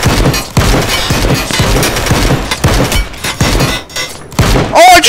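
Video game gunfire pounds loudly at close range in a gondola shootout, with irregular single shots and short bursts, sharp splintering impacts, and a voice exclaiming at the end.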